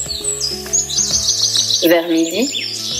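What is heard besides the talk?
white bird singing, storybook sound effect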